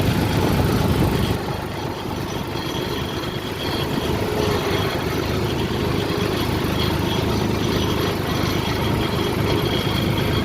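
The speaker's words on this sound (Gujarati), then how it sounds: "આપણે ટ્રેક્ટર છે સોનાલિકા TI 42 અને મોયણી છે ધરતી એગ્રો કંપનીની" A Sonalika TI 42 tractor runs steadily on a farm field, its engine a continuous loud rumble throughout, easing slightly in level after the first second and then holding even.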